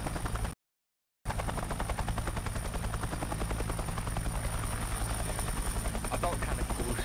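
A military helicopter in a video game, one used to shoot down a plane, gives a steady close rotor thrum with a constant buzzing drone that holds through the clip, broken only by a brief dropout near the start.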